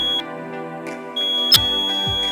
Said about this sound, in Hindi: इस तरह से इस पर अलार्म बजने लगेगा।